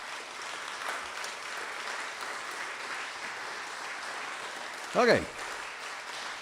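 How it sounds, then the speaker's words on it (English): After a tuba ensemble concert of Bach, an audience claps in a steady, even wash that holds throughout, with a single spoken word from a nearby voice briefly rising above it near the end. "Another round of applause for them,"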